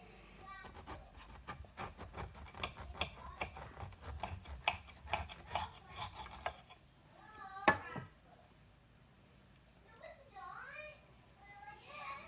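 Freshly baked bread is sawed with a knife in a home kitchen, a series of rhythmic rasping strokes up close, followed by quieter scraping while a person talks softly.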